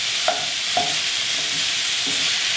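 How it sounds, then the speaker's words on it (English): Ground meat for spaghetti sauce sizzles over high heat in a pan. A constant loud frying hiss is broken by a few brisk spatula scrapes, with no voices. "Now we're going to chop up the meat in our pan into chunks. It's going to start cooking right away on that high heat."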